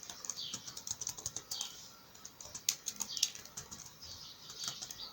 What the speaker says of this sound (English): I'm just going to type my name.